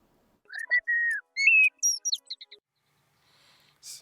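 A single blackbird phrase rings out: mellow whistled notes sliding up, then a burst of thin high chirps, clean and isolated with near silence after.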